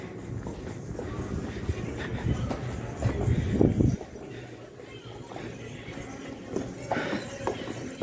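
Hooves of horses clip-clopping along a pilgrimage route, a close cluster of steps under talk, then fainter after a few seconds.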